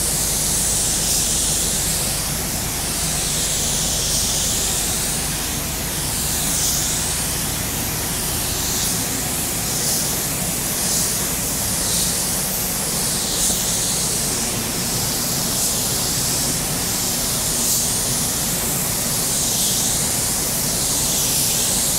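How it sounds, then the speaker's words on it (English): Spray gun spraying car sealer at 23 PSI during a budget car paint job, a loud continuous airy hiss that swells and eases in regular passes for over twenty seconds, with no talking. "We'll spray this around 23 PSI."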